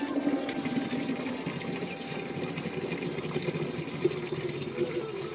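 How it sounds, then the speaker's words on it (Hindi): Water pouring steadily from a stone spout fed by a stream in a Himalayan village in Bageshwar, Uttarakhand, a continuous close splashing rush with faint talk underneath. "पानी के लिए यहाँ पे धारा बना हुआ है,"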